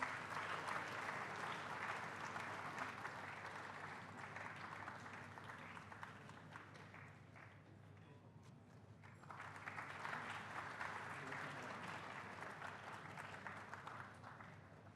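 A seated audience at a college freshers induction program at IIT Kharagpur claps in a dense, sustained round of applause that dips briefly midway, then swells again.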